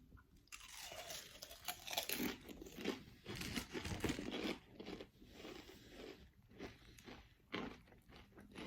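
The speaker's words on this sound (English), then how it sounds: "I'm having the 44 grams of the crisps" Crisps being eaten up close give loud, dry crunching and chewing in a steady run of bites, with rustling now and then and no talk.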